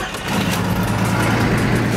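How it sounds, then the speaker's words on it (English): Jeep XJ with the 4.0 engine fires up and runs at a steady, loud, rumbling idle close by. "you ready to hear this beautiful masterpiece of an engine fire up?"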